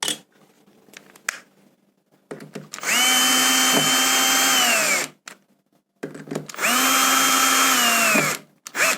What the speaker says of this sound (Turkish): Önce bunu vidalıyoruz.